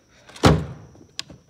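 A drawer in a cluttered workshop is pushed shut with one sharp, close thud that rings out briefly, followed by a small, lighter knock.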